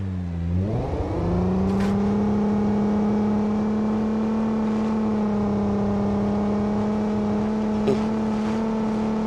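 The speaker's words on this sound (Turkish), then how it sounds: "Araba nasıl bağırıyor?" A Nissan Pathfinder engine in the BeamNG.drive video game revs up from low to a steady high drone with a strong hum, held loud and constant, with a brief click near the end.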